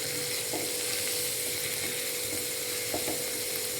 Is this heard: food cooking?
yes